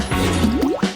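Watermelon juice drips from a small bottle into water to form juice balls, giving soft, wet squishy drips with gurgling rising tones across a short stretch, close and fairly loud, with no talk.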